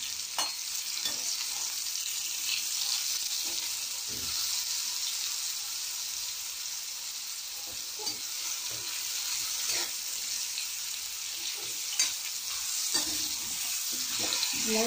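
Bottle gourd pieces seasoned with turmeric and salt fry in oil over medium heat, making a steady, even sizzle throughout with occasional soft stirring scrapes and no voices.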